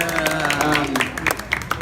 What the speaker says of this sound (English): One more round of applause for Sami Yusuf.